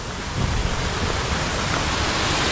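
Water from a small waterfall at the Cascades du Hérisson rushes in a steady, broad wash, with light wind buffeting the microphone.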